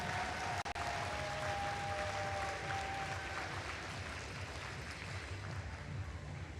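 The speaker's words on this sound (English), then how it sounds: "Give them a huge round of applause." Steady applause from an audience at a FIRST robotics district event award ceremony, a dense continuous wash of clapping that holds evenly throughout with a faint tone briefly audible underneath.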